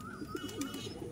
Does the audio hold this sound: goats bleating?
no